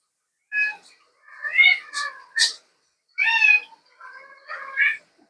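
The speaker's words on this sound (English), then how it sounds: "The cat." A cat meows several times in short, clear calls separated by brief pauses, close and fairly loud in a quiet room.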